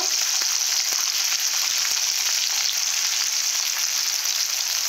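Turmeric and chili powder frying in hot oil while being stirred, a steady close sizzle with a dense hiss that holds throughout, broken by a few faint scraping stir strokes.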